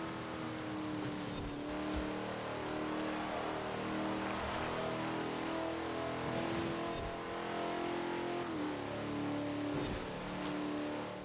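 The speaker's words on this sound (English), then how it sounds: "The Sunbeam Tiger, that is a good choice as well." A Sunbeam Tiger roars through Forza Horizon 4, its engine revving hard and shifting pitch continuously. The loud car sound runs throughout with brief tire noise, and no voice is heard.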